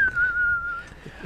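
A person whistles one long, slowly falling tone, imitating the whistling sound effect of a Wild West shootout; the whistle is clear and alone.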